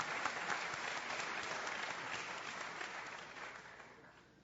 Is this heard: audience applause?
yes